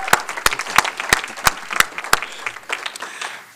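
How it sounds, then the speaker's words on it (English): A school board meeting audience applauds a student tennis player, starting with several sharp, close, evenly spaced claps that give way to softer, denser clapping which tapers off. "Let's give her a round of applause."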